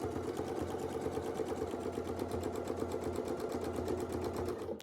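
A sewing machine quilts along a ruler template with a steady, rapid stitching rhythm, running continuously at moderate volume before stopping abruptly at the end.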